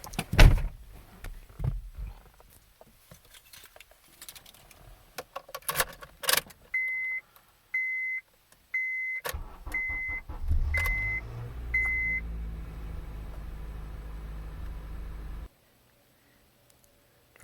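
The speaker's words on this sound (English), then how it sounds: "So I'll show you what the cold start looks like with the stock battery." A 4-cylinder Honda Accord on its stock battery at 25 degrees: keys jangle and a door thuds, a series of six chimes sound, then the starter cranks and the engine catches into a loud, steady cold idle before cutting off.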